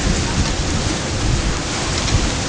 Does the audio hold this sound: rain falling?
yes